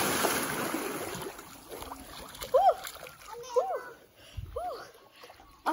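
A child jumps into a swimming pool in hot weather, giving a splashy wash of water near the start. Children's voices and adult talk follow, with bright, chirpy calls over the lapping water.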